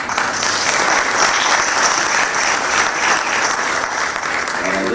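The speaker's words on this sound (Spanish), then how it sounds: "agradecer y pedir un aplauso para Fernán Molinos" Audience applause at a press freedom and information commission session, a dense steady wash of many hands clapping throughout at fairly close range, with a faint voice starting near the end.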